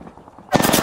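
A burst of rapid automatic gunfire in the video game Apex Legends breaks in abruptly after a half-second lull and stays loud and dense to the end.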